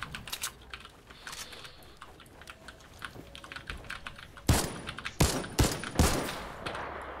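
Gunfire in an online shooter video game: a soft clatter of distant shots and clicks early on, then several loud, sharp bursts of close gunfire in quick succession near the end.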